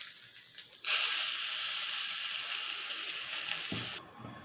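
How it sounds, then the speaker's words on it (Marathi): Hot oil hisses and sizzles steadily as mustard seeds, curry leaves and asafoetida go in for a chutney tempering, a close, loud broadband crackle starting abruptly and holding for about three seconds before cutting off, with no talk. "राई टाकली, कढीपत्ता टाकला,"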